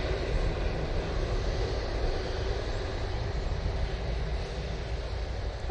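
An EasyJet airliner from Malaga touching down at Manchester Airport makes a loud, continuous engine roar with heavy low rumble, steady and near, with no speech.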